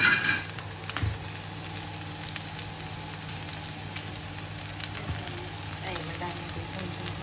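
Onions sizzle and fry steadily in a hot pan for ginataang laing with pork, a continuous close crackling hiss with occasional stirring clatter and no talk.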